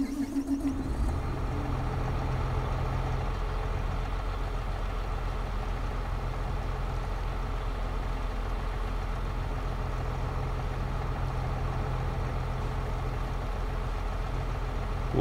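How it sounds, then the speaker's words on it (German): A tractor engine in Farming Simulator 22 starts up and settles into a steady, low, rumbling idle that runs continuously and fairly loud with no talking. "ich werde einfach den Motor frisch neu anschmeißen"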